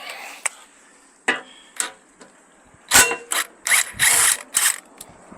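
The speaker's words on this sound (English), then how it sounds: "Okay, so this is a 1/2-inch socket." A ratchet with a 1/2-inch socket turns bolts while a bumper is being removed, giving loud bursts of rapid clicking separated by pauses, close by and alone.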